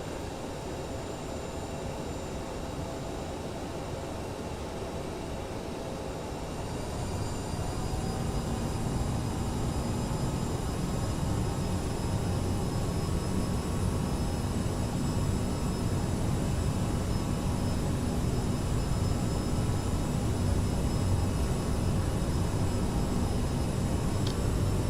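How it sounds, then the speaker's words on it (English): Jet engines of a SkyWest CRJ-700 in Microsoft Flight Simulator 2020 hold a steady, loud whine and rumble, swelling a step louder after several seconds as the airliner turns, with high tonal whistles sitting over a dense roar. "Enjoy the sounds of this CRJ as we turn and burn."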